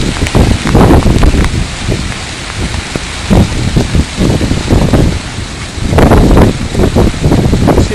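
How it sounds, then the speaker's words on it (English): Heavy rain blowing sideways in Ohio, recorded outdoors. A loud, dense wash of pattering drops surges with gusts of wind throughout and is very close. "See, the sideways direction of the rain is interesting."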